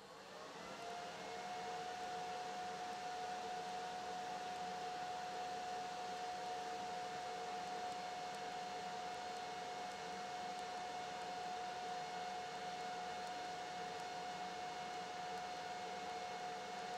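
A TIG welder runs continuously on a cracked panel of thin 22 gauge sheet metal on a Porsche 356 under restoration, making a steady, fairly quiet buzzing hiss with a sustained whine and no talking.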